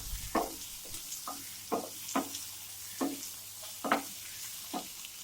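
Chopped tomatoes and onion with garlic cloves sauté in a pan for a chutney, a low sizzle broken by repeated scraping stirs of a spoon, about eight strokes at an uneven rhythm, close and moderately quiet.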